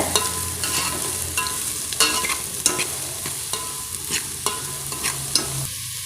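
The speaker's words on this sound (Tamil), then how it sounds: "இப்போ நாம் இதில் வெங்காயத்தையும் சேர்த்துடலாங்க வெங்காயத்தை நல்லா வதக்கிக்கோங்க" Onions sautéing in hot oil with fennel seeds give a steady close sizzle, broken by frequent sharp clicks and scrapes of a spoon stirring the pan, with no voices.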